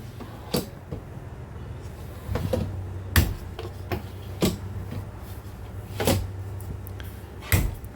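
Kitchen drawers in a Starcraft Autumn Ridge 182RB travel trailer are opened and closed repeatedly, each giving a soft slide and a muffled anti-slam thump, about a dozen in irregular rhythm over a low hum.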